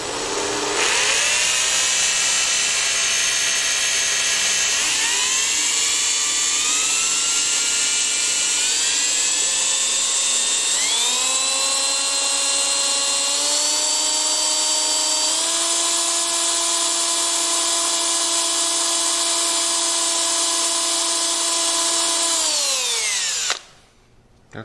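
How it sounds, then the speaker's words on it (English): Power drill fitted with a smaller bit, working on a 1972 Homelite T10 garden tractor, whining loudly and continuously for over twenty seconds, its pitch stepping up several times before spinning down at the end. "Grabbed a smaller drill bit."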